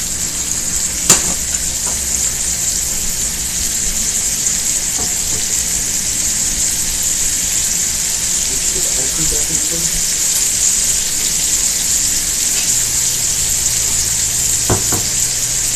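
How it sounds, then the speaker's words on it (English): Continuous sizzling of Buldak Korean fire chicken stir-frying in a pan, a loud steady hiss close by with occasional clinks of stirring and a few faint voices underneath. "That's all they're getting is sizzle."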